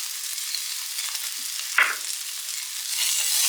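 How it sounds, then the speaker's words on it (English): Onion browning in a pan over medium-high heat gives a steady, close, hissing sizzle, broken once by a short scrape of a utensil midway. No voices. "we're going to brown the onion at medium-high"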